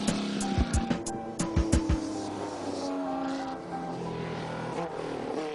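An open wheel race car, such as a 1996 Wells Coyote, climbs the Pikes Peak hill climb in 2008, with several sharp close revving bursts and gear changes early on, then a fainter sustained engine tone as it pulls away.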